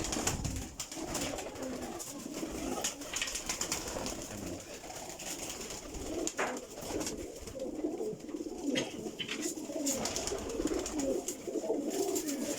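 Golden high-flying pigeons in a breeding loft coo steadily and nearby, with many overlapping throaty calls running through the whole stretch and no voices.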